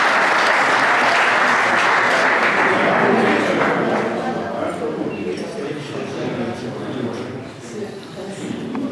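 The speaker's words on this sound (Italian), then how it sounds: "facciamo un applauso al primo poeta della giornata" Loud crowd applause at a poetry gathering fills the room, strongest at first and then gradually thinning into scattered clapping.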